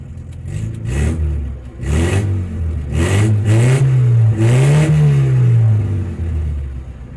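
A 1972 Moskvich 412 engine runs with no muffler, loud and rough, revving up and down in several swells with a harsh, throaty drone that stays close and constant throughout.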